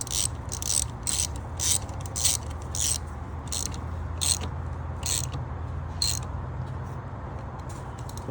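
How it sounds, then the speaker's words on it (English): A ratchet tightens a battery terminal on a 2021 Honda Accord Hybrid, producing repeated close bursts of rapid clicking pawl rattles in a steady back-and-forth rhythm over a low background hum. "Tighten this one down."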